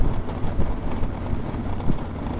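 A 2016 Harley-Davidson FXDLS motorcycle engine rumbles low and steady while riding, with wind buffeting the microphone and the throb rising and falling slightly.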